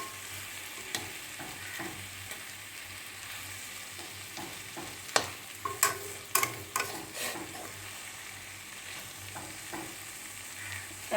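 Prawns sizzle steadily in a pan while a utensil scrapes and stirs with sharp, irregular clinks, close by and without talk.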